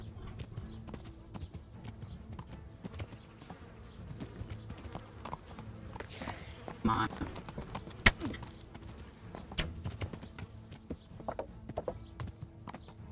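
Faint, uneven hoof clops plod along at a steady trot in the video game Kingdom Come: Deliverance, with a low buzzing drone and occasional sharp clicks in the background.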